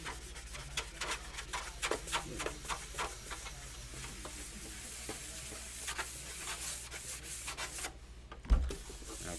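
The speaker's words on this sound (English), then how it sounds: "That's pretty much sanded." Steady rubbing strokes of sanding on a prop, a continuous rhythmic scratchy texture with a brief louder knock near the end.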